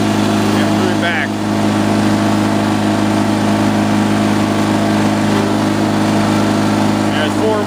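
A Cub Cadet 1420 Hydro lawn tractor engine runs loud and steady at close range while the tractor moves in reverse. Its constant droning hum carries a few brief chirps and squeaks, and someone talks over it.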